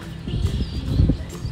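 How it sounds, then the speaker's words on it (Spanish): Horse in a stable at a fair, shuffling and stamping close by with soft hoof clops and snorting movement, a brief faint high call in the background, and no talk. "estoy totalmente enamorada del color de este caballo"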